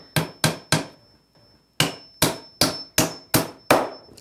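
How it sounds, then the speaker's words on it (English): Hammer strikes driving nails into wooden beekeeping equipment in a backyard: two quick sets of sharp, ringing blows, three then six, evenly spaced and close, with a short pause between groups and no voices. "I always hammer nails crooked."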